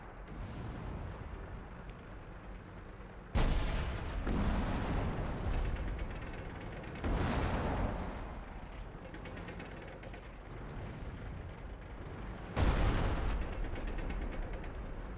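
Tank cannons firing in the World of Tanks video game: three heavy booming shots spaced several seconds apart, each with a sharp onset and a long rumbling decay, over continuous low engine and battle rumble.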